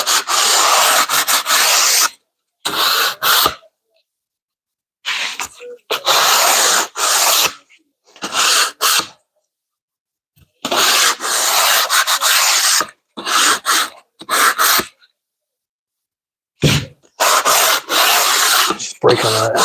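Hand sanding along the edges and corners of a wood piece to break them, heard as bursts of broadband rasping rubs separated by short pauses, close and fairly loud with no talk.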